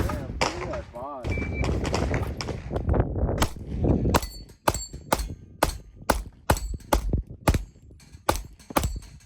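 Rapid series of Glock 43x pistol shots fired with Shield Arms Gen 3 magazines, about a dozen sharp loud reports in an uneven rhythm, the first few seconds mixed with talk and handling noise before the shots ring out clearly.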